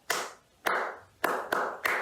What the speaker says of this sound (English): How would you clap this rhythm in the first bar?